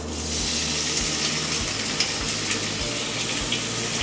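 A piece of pork sears in a hot pan, giving a steady, loud, close-up sizzle and crackle that holds throughout, with no talking.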